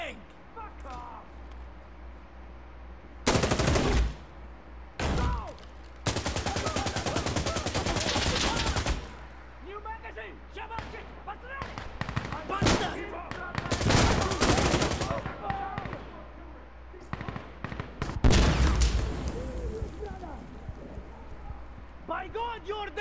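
Gunfire in the video game Insurgency: Sandstorm: loud bursts of automatic rifle fire and single shots in irregular volleys, with quieter stretches between, while players shout and talk throughout.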